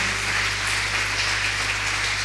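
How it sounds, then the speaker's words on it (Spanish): A church congregation applauding together, a steady dense wash of clapping filling the room at an even level throughout with no pauses or talk. "Y yo quiero que tú le des un aplauso al Señor ahora"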